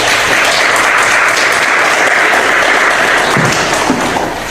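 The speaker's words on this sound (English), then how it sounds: "So y'all give yourself a round of applause." A live audience at a Black History Month seminar gives a round of applause, a loud, dense wash of many hands clapping steadily throughout.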